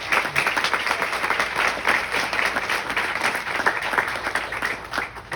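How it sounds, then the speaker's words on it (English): A crowd at an outdoor groundbreaking ceremony for a village housing project claps steadily and densely, a sustained round of applause that stays close and even throughout with no voices over it. "They owe a huge round of applause for what Birtco did."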